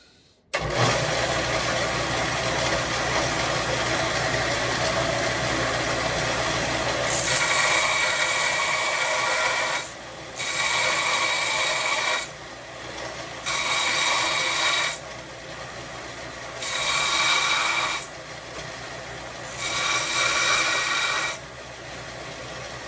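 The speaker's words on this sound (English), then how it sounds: "All I need to do is grind this back down flat with that surface" A power grinder grinding a repaired metal lamp leg flat in repeated bursts: a loud, harsh, steady whir that cuts in and out about five times, with a hum between passes.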